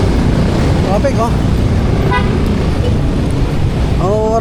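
Heavy road traffic rumbles steadily while car horns honk in short toots at scattered moments, with one longer wavering horn near the end; the noise is loud and close throughout.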